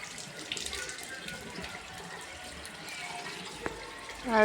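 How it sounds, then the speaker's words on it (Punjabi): Tap water running steadily while a bicycle is washed outdoors, a continuous close splash with a few faint clinks. "ਧੋ ਕੇ ਛੱਡੂਗਾ ਅੱਜ ਸਾਈਕਲ"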